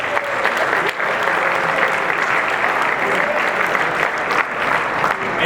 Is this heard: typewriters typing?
no